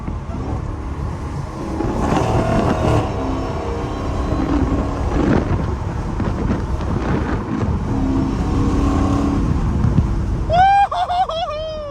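A straight-piped Hellcat car engine drones loudly and steadily while driving through corners, with wind buffeting throughout and a high whooping voice breaking in near the end.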